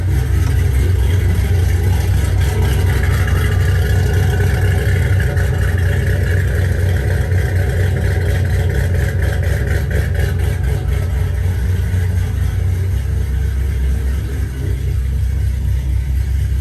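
A 2005-2010 Ford Mustang GT V8 fitted with Ford hot rod cams idles with a loud, steady, lumpy rumble, heard close up and alone for the whole stretch.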